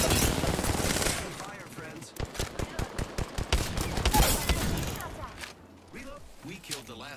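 Rapid automatic gunfire in Apex Legends, a rhythmic burst of close shots followed by more scattered firing, with a voice talking over the battle.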